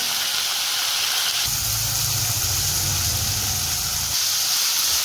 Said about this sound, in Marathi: तेलामध्ये मटार टाकू, फ्लावर, बटाटे या सगळ्या भाज्या आपण तेलामध्ये टाकून देऊ